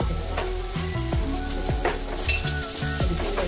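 Vegetables sauté lightly in a pan for an eggless vegetable omelette, a steady sizzle with occasional stirring scrapes and clinks, close and alone without talk.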